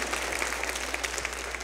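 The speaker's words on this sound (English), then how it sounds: "Come on, clap your hands and say amen." Church congregation clapping steadily during a service, a continuous fairly distant patter of many hands with no talk over it.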